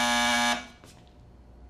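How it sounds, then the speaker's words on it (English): An electric buzzer blares in one loud, sustained burst of roughly half a second, then stops abruptly, followed by quiet room noise and a faint thump at the very end. "just buzz this buzzer and I'll come running"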